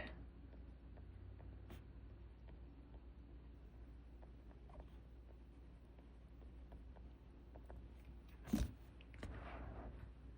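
Pen writing in a Hobonichi Cousin planner, a quiet, faint scratching of strokes across paper over a low steady background hum, with a brief louder knock near the end.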